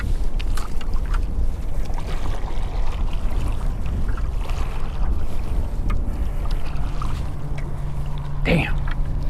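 Strong wind buffets the microphone in a continuous roaring rush while paddling a Pelican Catch 120 kayak on a river, with water sloshing underneath and a short sharp knock near the end.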